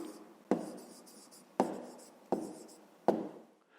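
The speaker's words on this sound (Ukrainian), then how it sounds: "записуємо відповідь" Handwriting the answer to a fifth-grade maths exercise, with faint scratchy pen strokes and four sharp taps as the pen meets the page, spaced about a second apart, close and quiet with no voices.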